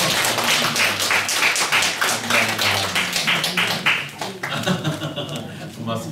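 A church congregation claps together in a quick, steady patter that carries on for several seconds close by, with a voice speaking over it before the clapping thins out near the end.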